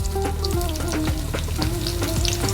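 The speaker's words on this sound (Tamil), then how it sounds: "இப்போ கருவேப்பிலை சேர்த்துக்கிறோம். ஒரு 10 பல்லு பூண்டு சேர்த்துக்கிறோம்." Curry leaves and about ten garlic cloves sizzle and crackle steadily in hot oil for a Manathakkali kaara kuzhambu, with dense frying hiss and a few sharp pops throughout, close and alone.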